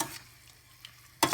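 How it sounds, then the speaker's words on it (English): Chicken pieces sizzle as they drop into a hot soup pot, with a short burst of frying at the start, a quiet gap, then a louder sizzle rising at the end. "Starting to sizzle."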